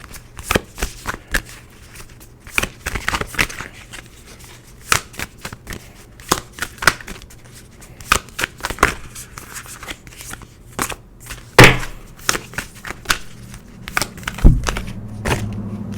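Animal Spirit Oracle cards shuffled up close in a run of crisp riffles and slaps, with bursts of papery flutter and taps spread unevenly through the stretch and a louder thump near the end.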